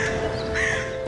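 Crows cawing, a couple of harsh raspy calls that sound fairly close and loud, with no talk.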